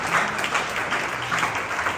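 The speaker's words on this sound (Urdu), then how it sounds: "آئے زوردار تالیاں خدا کے خادم کے لیے اور سلام کے لیے۔" A church congregation applauding for a pastor after a sermon in Malaysia, dense continuous clapping from many hands that fills the room steadily at moderate loudness.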